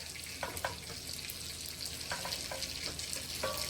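Ginger and other aromatics fry in a pan with a faint, steady sizzle, and a utensil makes several soft scraping strokes while stirring. No voices are heard.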